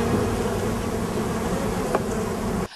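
A steady, dense buzzing of many honeybees close by at a beekeeper's hives in Ashland, Oregon, continuous and fairly loud, cutting off abruptly at the end.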